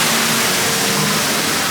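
Beside the Disneyland Storybook Land canal boat ride, a waterfall pours in a steady, loud broadband rush that fills the short moment with no talk.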